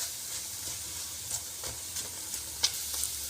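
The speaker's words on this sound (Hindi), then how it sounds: "ये देखें, अच्छे तरीके से इसको मिक्स करेंगे।" Semolina and walnut halwa stirred in a pan, with a soft steady sizzle and a few scraping clicks of the spoon, close and fairly quiet, no voices.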